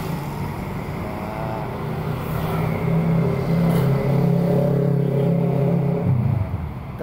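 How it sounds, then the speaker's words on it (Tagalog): A motorized tricycle passes along Juan Luna Street in Manila, its engine droning loudly and steadily with a rising rumble as it goes by, set against constant city traffic noise. "Tricycle yan."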